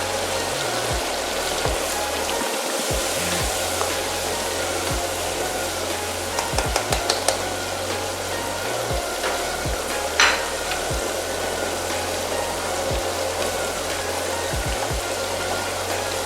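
Tomato and green chili paste sizzles and fries steadily in a biryani pot for Hyderabadi biryani. A spoon scrapes and clinks now and then over the continuous hiss.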